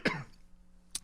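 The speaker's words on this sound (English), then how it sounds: "Yeah, you're going to cough." A single rough, close cough bursts out at the start, followed by a short quiet pause and a brief faint breathy sound near the end.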